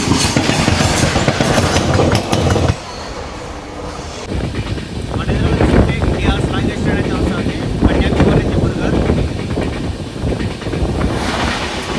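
The Narasapur–Tirupati weekly express, train number 17428, runs after leaving Tenali. A loud, steady rumble of wheels and carriages continues throughout, with rattling and wind buffeting close to the microphone.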